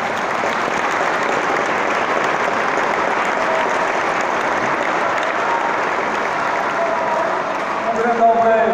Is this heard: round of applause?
yes